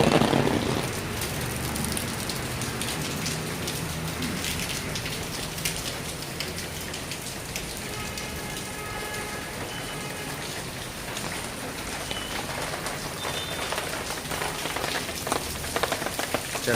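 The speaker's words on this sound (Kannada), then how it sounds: "ಮಳೆ ಬರ್ತಾ ಇದೆ." Rain falls steadily outdoors in a village during a rainy cold spell, a continuous hiss of close raindrops holding an even level throughout with no voices.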